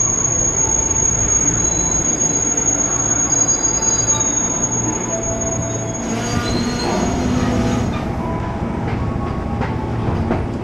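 A train at a railway station platform near Tanah Abang, with loud, continuous rumbling wheels and a high, steady squeal that shifts partway through as the cars roll past close by.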